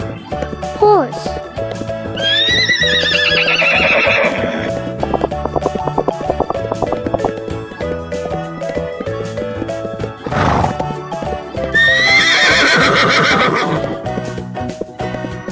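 A horse on a farm neighs loudly twice, each whinny a long shrill descending call, with hoof clip-clop and a backing music track beneath.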